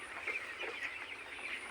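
Broiler chickens cluck and murmur softly in a poultry shed on a cool, rainy day, a faint, scattered chatter with no talking.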